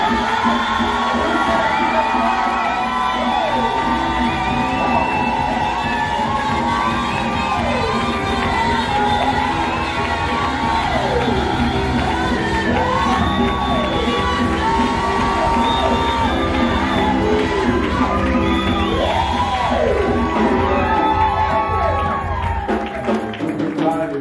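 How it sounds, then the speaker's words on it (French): A church congregation cheers, whoops and shouts continuously to welcome a preacher, a loud sustained crowd roar with rising and falling cries and a voice or music blending underneath. "Préparez maintenant votre joie, votre acclamation pour accueillir l'homme de Dieu, Dr. Silas Makamou."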